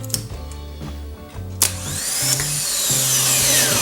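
A car starter motor on a bench test, engaging with a sharp click and then spinning up into a steady, rising mechanical whine with a buzzing hum underneath, close and fairly loud.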